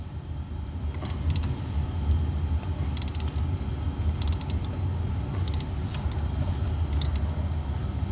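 An Irwin bolt extractor turning on a broken exhaust manifold bolt of a 5.3 engine in a 2013 GMC Sierra, producing close, strained metallic creaking and grinding with a low rumble throughout, no talk.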